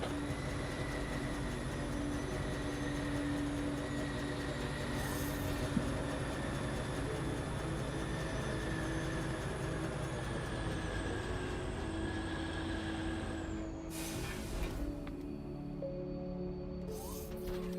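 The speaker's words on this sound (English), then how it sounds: "You're an Ignium ore train." A moving Ignium ore train in the factory-building game Foundry, a steady continuous rumble of rolling rail cars with mechanical whine, loud and sustained throughout, with a brief shift near the end.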